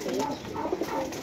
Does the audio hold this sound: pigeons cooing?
yes